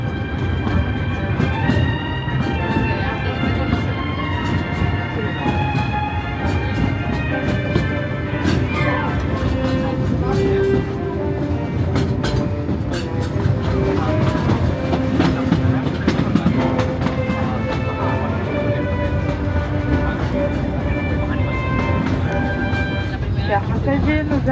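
A Disneyland Paris Railroad train rolls steadily along its tracks with a continuous rumble and faint clickety-clack, while a recorded announcement and other voices talk over it throughout.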